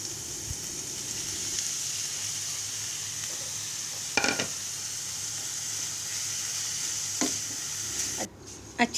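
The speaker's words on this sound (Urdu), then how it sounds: "گرائنڈ کیے ہوئے قیمے کو تھوڑے سے آئل میں فرائی کریں گے۔" Ground minced meat frying in a little oil in a pan, a steady close hiss of sizzling with a few sharp spoon scrapes and clinks breaking through.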